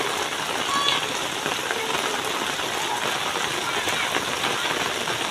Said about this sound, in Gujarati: વરસાદ જ એટલો આવતો હતો